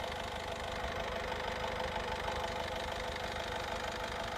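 A Honda City diesel engine idling, a steady low rumble with an even knocking beat, heard close and unbroken with no voices.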